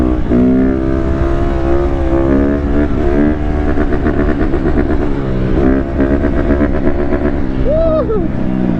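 A Honda CRF150R dirt bike fitted with a turbo exhaust whistle revs loudly and steadily, its engine roar holding a rising whistle tone throughout, with a sharp swooping whistle near the end.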